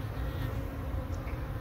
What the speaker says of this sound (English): Beautiful hive, calm bees.